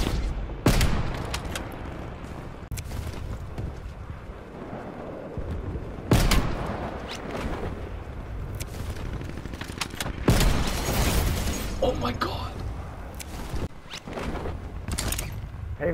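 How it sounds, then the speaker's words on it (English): Artillery barrage in Call of Duty Cold War multiplayer, with several heavy booms and blasts landing at irregular intervals over a rumbling battlefield background, some hits sharp and loud, others more distant. "Incoming artillery."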